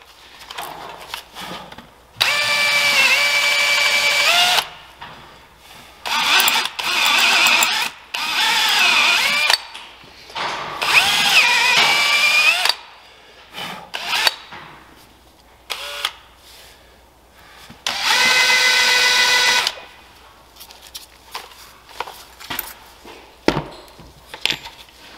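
A power drill drilling out a bolt on a JLG 600AJ manlift basket rotator whines in several long, loud bursts with brief pauses, the pitch sagging under load, then short intermittent clatters near the end as the bolt rotates.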